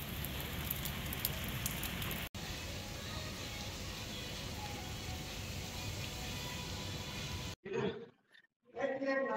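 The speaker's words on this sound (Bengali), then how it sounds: "আজকে সাংঘাতিক বৃষ্টি হচ্ছে এখানে" Heavy rain pours down in Phuket as a steady, dense roar that is loud and close for several seconds. Voices follow once the rain noise cuts off.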